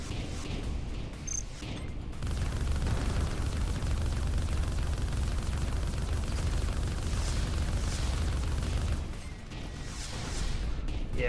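Dense, continuous rumbling blasts and gunfire from enemies in the Arc Savior space fighter game keep up for several seconds as a loud, noisy wash, then ease off briefly at the end.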